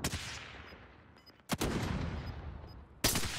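Sharp, loud sniper rifle gunshots in the Warzone video game, three separate blasts about one and a half seconds apart, each ringing out into a decaying tail, with no talk over them.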